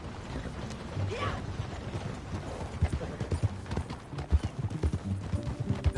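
A horse's hooves clip-clop at a walking pace in a Western open-world game, the rhythmic thuds growing louder toward the end, with faint background voices.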